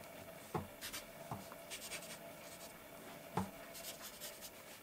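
Felt-tip marker scratching and rubbing across paper while colouring in an area of a ballerina drawing, soft close strokes in quick bursts with a few sharper taps, quiet and without talk.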